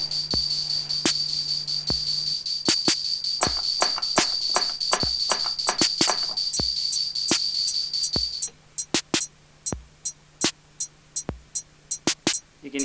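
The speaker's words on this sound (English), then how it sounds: "And now I'll do some hi-hats." A Roland CR-78 drum machine runs a programmed beat as hi-hats are added, crisp ticking strikes layered over a steady kick pulse, slightly uneven in timing, the background hum cutting out partway through.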